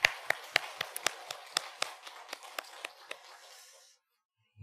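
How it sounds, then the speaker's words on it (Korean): Scattered hand claps ring out in a church worship service, a dozen or so separate sharp slaps at an uneven rhythm rather than a full ovation, tapering off before a short silence. "우리 서로가 서로를 위해서 한번 우리 박수해 보겠습니다."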